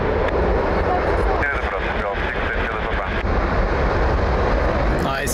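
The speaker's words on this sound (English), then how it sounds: "Nice reverse sound" A jet landing at Lisbon Airport roars loudly as its thrust reversers deploy, a dense, steady rushing blast mixed with wind buffeting, while voices talk over it.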